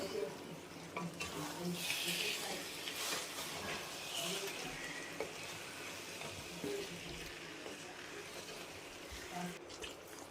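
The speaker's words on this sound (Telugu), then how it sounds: "ఈ మసాలా అంతా చేప ముక్కలకి పట్టేటట్టు మొత్తం ఒకసారి కలుపుకోవాలండి" Fish pieces are stirred with masala in a pan while cooking a fish curry (chapala pulusu): continuous scraping and sizzling with a wet, frying texture and occasional utensil clinks, fairly soft, with faint voices in the background.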